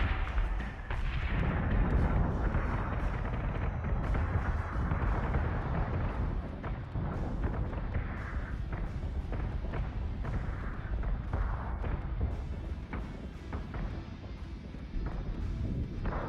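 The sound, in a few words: flak gun firing in Battlestar Galactica: Deadlock video game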